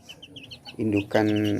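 Brood hens cluck in a poultry coop: soft, scattered calls at first, then two louder, drawn-out clucks close by. The second is sustained to the end.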